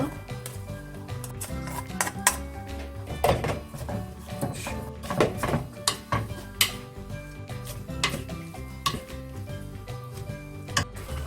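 Sliced burdock root stirred in a pan as it braises in bubbling soy sauce over medium heat, with irregular knocks and scrapes of a utensil against the pan and soft sizzling underneath.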